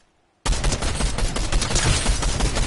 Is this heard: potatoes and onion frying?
no